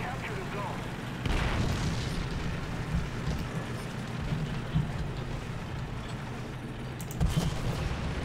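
A tank cannon fires twice in War Thunder ground battles, two sharp booms at about one and seven seconds over a steady low engine rumble, with no talking.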